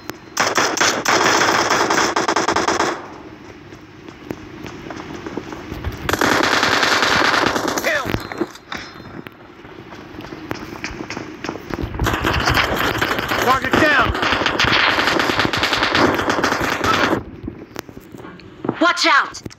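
Rapid automatic gunfire from the mobile battle game PUBG Mobile rattles loudly in long sustained bursts separated by short lulls, dense and close with scattered single shots and game sounds between volleys.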